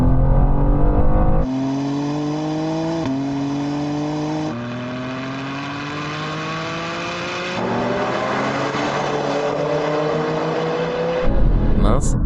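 An Audi RS6 accelerating hard in manual mode, its loud engine revving up through several gears with a rising whine at each shift, sustained and close before it cuts off at the end.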